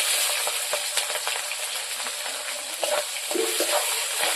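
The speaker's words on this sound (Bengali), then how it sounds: "ভালোভাবে ভেজে নেব।" Green chilli and chopped onion sizzle steadily in hot oil with whole cumin, bay leaf and whole garam masala, a continuous close frying hiss broken by a few stirring clinks.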